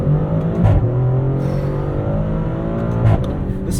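A 2024 Maserati Grecale Trofeo's twin-turbo V6 accelerates hard in Corsa mode, heard from inside the cabin as a loud, close engine drone that climbs in pitch with quick breaks between gears.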